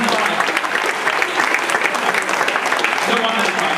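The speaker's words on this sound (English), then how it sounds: "how about a round of applause for O'Donnell?" A crowd at a school fundraising appeal claps loudly and steadily, the applause dense and sustained from start to finish.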